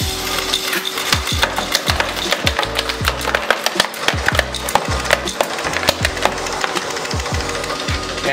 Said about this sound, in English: I'm gonna go ahead and throw some of those pennies in the machine